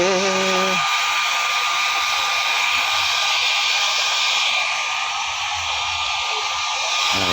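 A blower roars steadily and loud while drying a dog's fur, its broad rushing hiss continuous throughout, with a brief voice at the start.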